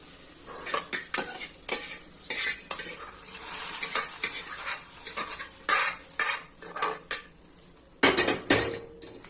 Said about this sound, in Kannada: ಈಗ ಸಾರಿಗೆ ಮಿಕ್ಸ್ ಮಾಡ್ತೀನಿ